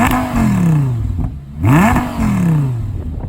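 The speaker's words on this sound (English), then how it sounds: "let's listen to the exhaust note." A 2012 Audi R8 with a 5.2 litre V10 revs loudly twice, its exhaust note rising sharply and falling back each time, close by with no talking.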